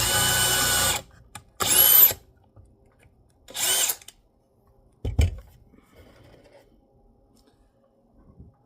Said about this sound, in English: You don't want to drill it in there sideways, you want it to go in there straight.